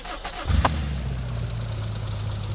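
A car engine cranks and catches in the driving game BeamNG Drive, a short starter burst followed by a steady, low idle hum that settles and continues to the end.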